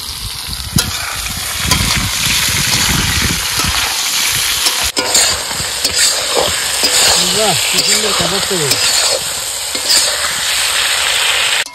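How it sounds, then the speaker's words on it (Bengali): Fish frying in a pan sizzles and hisses loudly and steadily, with stirring scrapes and a burst of spitting oil, while a voice talks faintly partway through. "মাছ ভাজা হচ্ছে"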